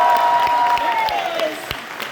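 A room full of Eagles fans at a church Super Bowl-themed sermon claps and cheers in a loose, sustained burst of applause that slowly fades, with a voice speaking over it.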